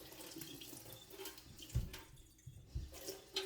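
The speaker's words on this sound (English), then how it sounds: "rinse off the spoon" A spoon rinsed under a running kitchen tap, soft splashing water with a few louder clunks of metal against the sink, faint and close.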